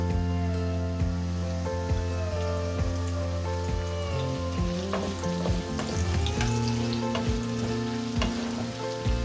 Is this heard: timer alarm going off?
no